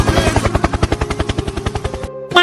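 A helicopter sound effect: rapid, loud rhythmic rotor thumping at a steady pace for about two seconds, then cutting off abruptly.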